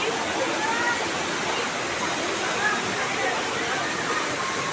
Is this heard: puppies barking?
no